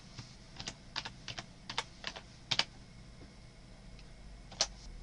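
Someone types a name on a computer keyboard, quiet, irregular keystrokes tapping in short runs with brief pauses, close by and alone against a soft room hiss.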